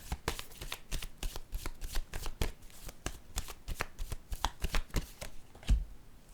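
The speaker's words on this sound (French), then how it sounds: "Je vais piger une autre carte." Playing cards are riffled and handled in quick, repeated crisp flutters and taps, close and fairly quiet, ending with a single firmer snap as a card is drawn.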